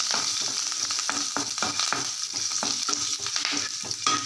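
Ginger, garlic and curry leaves fry in hot oil with a steady, loud crackling sizzle, broken by frequent scraping stirs of a spatula across the pan.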